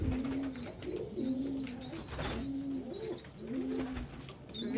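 A pigeon coos in a backyard loft, a low, repeated throaty coo-rolling call in a steady cycle, close and soft, with faint higher chirps above and a quiet room hum underneath.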